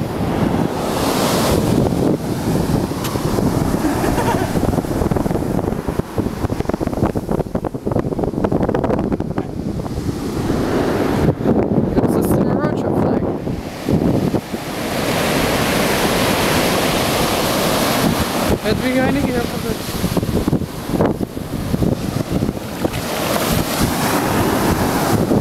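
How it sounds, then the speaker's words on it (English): Ocean surf at Jaco Beach crashes and rolls continuously, loud and close, with heavy wind buffeting the microphone throughout and no talking. "As you can see, we're out on the beach."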